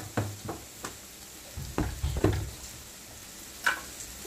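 Cluster beans stir-fried in oil with chili powder, giving soft scattered scrapes and light sizzling in a few short bursts with quiet gaps between, close by but faint, with no voices.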